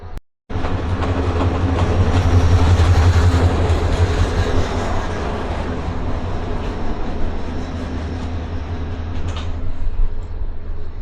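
Dolonchapa Express diesel locomotive running from Dinajpur toward Gaibandha, idling loudly at a station with a steady low rumble and rail-car clatter throughout, no voices.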